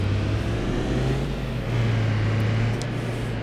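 A riderless motorbike in the driving simulator game City Car Driving, its engine a steady, droning hum with slight pitch shifts, moderately loud and continuous with no voices.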